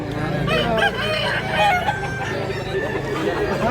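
A young rooster crows with clucking around it in a busy farmyard, the calls loud and close and layered over steady background noise.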